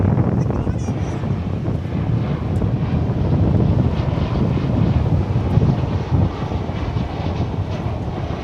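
A Boeing 737-800 airliner at DFW airport rumbles with a broad, steady engine roar mixed with gusty wind buffeting the microphone, continuous and fairly loud throughout.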